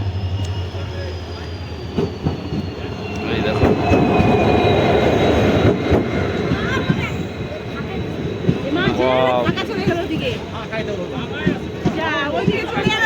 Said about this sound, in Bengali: এই যে মালদা বালুঘাট প্যাসেঞ্জার ট্রেন